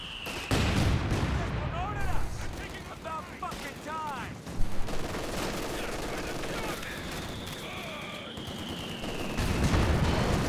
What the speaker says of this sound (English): No, he's actually rebuilt the mortar, has Jimmy. Very intent on his double mortars